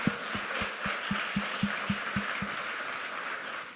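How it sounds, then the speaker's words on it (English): Audience at a climate economy pitch contest applauding the presenters: a dense, steady wash of clapping lasting throughout, with a row of soft rhythmic thumps underneath. "one last round of applause for all of our pitchers"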